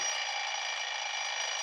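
An alarm clock rings with a continuous, loud, buzzing metallic tone that holds steady throughout without a break.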